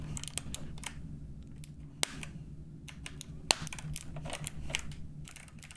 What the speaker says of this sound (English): They sound good. The box jades sound good.